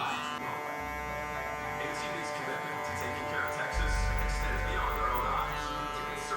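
Hair clippers fitted with a 2 guard cutting a drop fade, a steady electric buzz throughout that grows louder and deeper in the second half as the blades bite into the hair.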